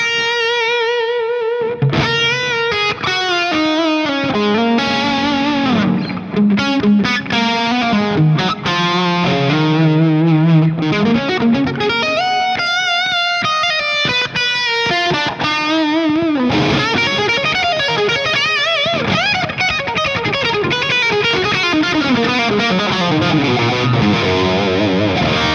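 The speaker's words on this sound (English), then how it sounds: "Now this is a very wet sound." Electric guitar run through heavy wet chorus and distortion effects in an amp-less rig, a continuous jammed line of sustained, shimmering overdriven notes with lush modulation, played loud and steady without talking.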